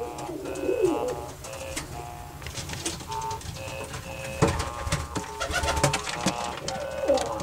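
Roller pigeons cooing nearby, repeated soft throaty coos and warbling calls from more than one bird over about seven seconds, with a few sharper clicks and rustles mixed in.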